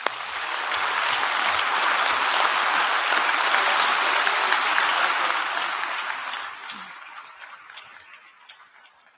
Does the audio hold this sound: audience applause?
yes